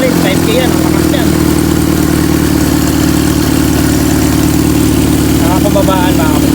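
A Toyota 5K engine runs loud and close, holding a steady idle with revs rising and falling, while someone talks over it.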